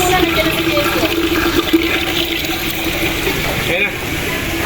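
Water trickles and splashes steadily at a resort, a broad wet hiss with faint tonal gurgles running throughout, close and fairly loud under light background voices.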